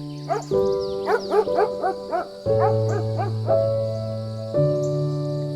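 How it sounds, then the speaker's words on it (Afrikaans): A farm watchdog gives a string of short, close yips and whimpering barks in uneven bursts, set over sustained musical tones. "Luister, kan jy wagterhond se blaf hoor?"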